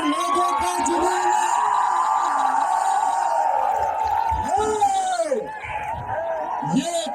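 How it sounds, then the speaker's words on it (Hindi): A large crowd of students roars and cheers continuously at a motivational gathering, loud whoops and yells sustained throughout, with a voice speaking over the din near the end. "अब तुम उनको ये भीड़ दिखाना"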